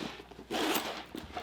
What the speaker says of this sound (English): I'm going to close up my zippers real quick